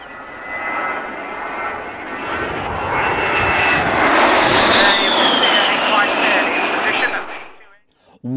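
Piston aircraft engine at an airshow, recorded in older footage: a loud, steady drone builds and swells as the plane passes close, then cuts off abruptly near the end.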